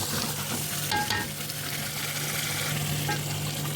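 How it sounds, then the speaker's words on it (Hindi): Beef paya trotters being fried and stirred in masala, a steady close sizzle with scraping spoon strokes running throughout, no voices. "पाए की इसकी बहुत अच्छी सी भुनाई करेंगे। 6-7 मिनट तक इसकी भुनाई करेंगे।"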